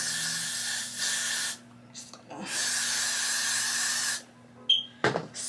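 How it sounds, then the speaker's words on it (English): Hair spray is aimed at a wig in bursts of hissing aerosol spray: one long spray, a short pause, then another long spray, close and loud, ending with a few small handling clicks. "Spray her down like so."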